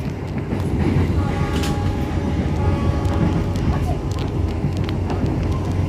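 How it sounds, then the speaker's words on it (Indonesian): The Cikuray train passes straight through Rancakek station without stopping, a loud, close rumble of wheels with rhythmic clicks, brief horn tones and a voice talking over it. "kereta api Cikuray melintas langsung stasiun Rancakek"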